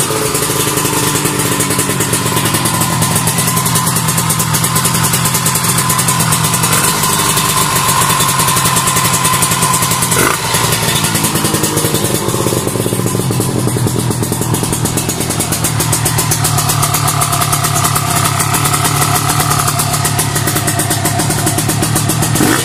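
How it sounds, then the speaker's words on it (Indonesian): A motorcycle engine idles close by for a long stretch, a loud, steady throbbing rumble with fine rapid firing pulses and a brief blip midway, and no one speaks over it. "Motor sudah hidup."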